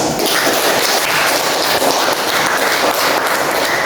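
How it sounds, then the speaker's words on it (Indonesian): Classroom of students giving a round of applause, continuous dense clapping from many hands filling the room, loud and unbroken throughout. "Ya, tepuk tangan."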